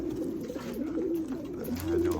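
A racing pigeon coos repeatedly, soft warbling low calls rolling on close by over faint background noise.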